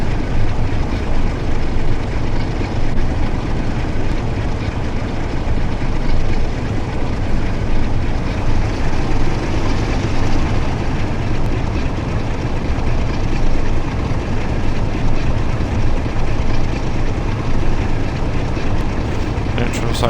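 Class 47 diesel locomotive engine under throttle in Train Sim World on the WCML over Shap, a steady, loud low-pitched rumble with constant drone throughout, no pauses, and a voice speaking over it.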